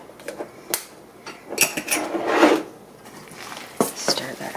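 Sweet potato bread batter being stirred by hand in a bowl, a thick rasping scrape that swells in the middle with a few sharp utensil knocks around it, close and moderately loud.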